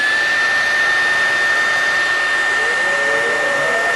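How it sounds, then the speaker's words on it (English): A hair dryer on its cool setting blows a steady, loud whirring stream of air while a ping pong ball floats in the airflow; the motor's tone shifts slightly near the end, with no talking. "I've got a hair dryer. This one has the cool mode so it doesn't get too hot while I'm doing it."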